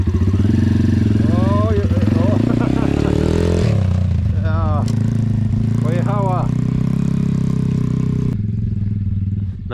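A motorcycle engine runs close and loud throughout, revving up and down, with voices talking over it.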